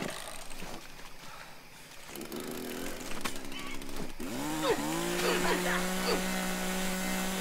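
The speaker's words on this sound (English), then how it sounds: "Oh boy, he's got a chainsaw." A chainsaw revving in the video game The Culling, rising and falling buzzing engine tones that grow louder toward the end, mixed with other game sounds.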